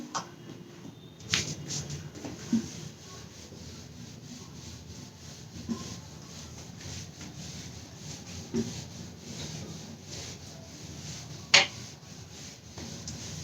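A classroom board being wiped and erased during a Hindi lesson, giving a soft, steady rubbing scrape with a few louder knocks and one sharp tap near the end, quiet and with no talking.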